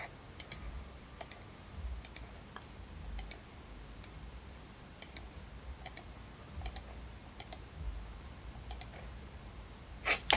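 Crisp, close computer mouse clicks land in pairs and singles at a quick, irregular pace against a quiet room, made while drawing with the pen tool in Adobe Illustrator.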